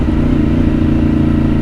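A Yamaha R1 sport motorcycle ridden through corners, its engine a loud, steady drone with constant low rumble close to the rider and no speech over it.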